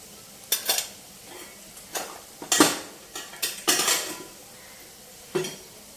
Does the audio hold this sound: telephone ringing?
no